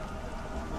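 A brief burst of dense, steady rainfall in Beyond: Two Souls hisses evenly, fairly loud and close, with no voices.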